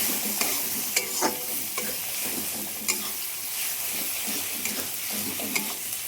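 Tadka masala is stirred through hot frying oil for a dal dish, giving a soft continuous sizzle broken by repeated scraping and clinking strokes of a spoon against the pan, with no speech.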